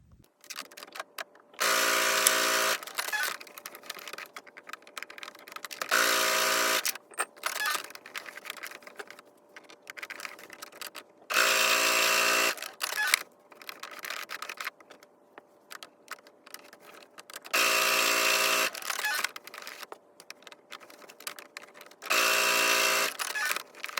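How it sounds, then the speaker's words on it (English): A sewing machine stitching fabric for a postcard runs in five short bursts of rapid mechanical whirring, each a couple of seconds long, separated by quieter pauses. "so we are going to sew along this line"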